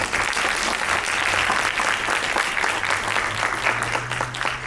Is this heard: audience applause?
yes